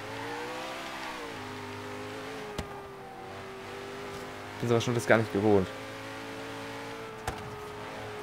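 Koenigsegg engine in Forza Horizon 3 revving hard in several sharp bursts after a steady drone, loud and close, with someone speaking German over it.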